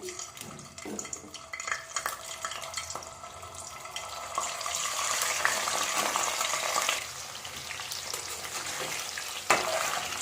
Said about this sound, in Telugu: సో ఇప్పుడు మనం ఇందులో చికెన్ అనేది డీప్ ఫ్రై చేసేసుకోవాలి.